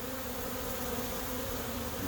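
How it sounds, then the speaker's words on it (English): Honey bees crowd and swarm at the entrance of a hive in Portland, Oregon, after the entry board was removed, making a dense, continuous buzzing drone close by, steady and unbroken. "I got some anxious bees here, or busy bees"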